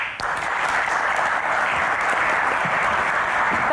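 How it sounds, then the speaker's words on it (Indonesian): An audience claps for guests on stage at a Q&A event, a dense, continuous wash of applause at full volume with no speech over it. "Tepuk tangan lebih meriah lagi"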